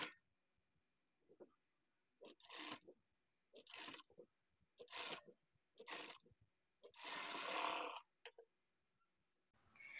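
A sewing machine stitching a puff sleeve at a half-inch margin runs in short, whirring bursts, about seven of them with quiet pauses between, one longer run near the end, all close and fairly soft.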